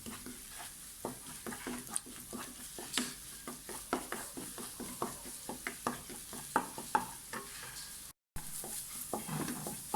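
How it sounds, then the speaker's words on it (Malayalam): Beaten egg poured into a hot pan for a broccoli egg thoran and stirred, a soft continuous sizzle broken by a steady series of spatula scrapes and taps against the pan. "ഇനി ഇതിലേക്ക് നമുക്ക് മുട്ട ഒഴിച്ചു കൊടുക്കാം. അത് നന്നായിട്ടങ്ങ് ഇളക്കണം."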